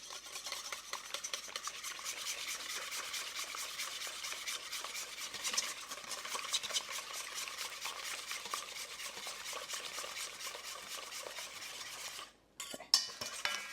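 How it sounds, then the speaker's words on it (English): A whisk stirs eggs steadily against a bowl as a hot Meyer lemon mixture is slowly added for a tart filling, giving a continuous close scraping and clinking that ends in a brief bump and clatter. "Now we're going to temper our eggs by adding about 1/3 of this slowly as I whisk"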